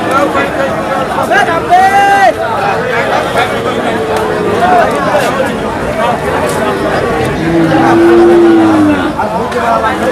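A bull moos several times, long drawn-out lows rising over a busy crowd babbling and chattering nearby at a cattle market.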